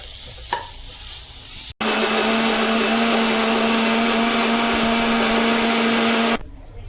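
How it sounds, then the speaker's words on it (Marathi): A mixer grinder grinds roasted masala paste for a home-style chicken curry. After a knock, the motor starts a loud, steady whir that lasts about four and a half seconds, then cuts off abruptly. "थंड केल्यानंतर आपण मिक्सरला लावून घेऊया"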